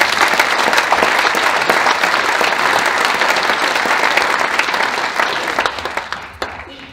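Sustained audience applause fills a hall at a sports gala in Weert, dense and steady throughout before thinning and tapering off in the last second.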